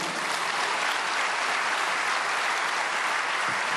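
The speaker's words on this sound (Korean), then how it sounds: "나오실 때 환영의 박수를 주시고" A church congregation applauds steadily and loudly to welcome a pastor stepping up at a prayer meeting for peaceful reunification, a dense unbroken wash of clapping from many hands throughout.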